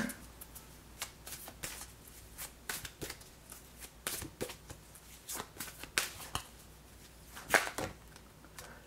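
Tarot cards are shuffled by hand in quick, crisp riffles and slaps that repeat steadily and close up, with no one speaking.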